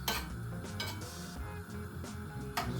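Ginger and garlic sweat in a pot with no oil, giving a soft, quiet sizzle broken by a few light clinks and scrapes of a utensil against the pot.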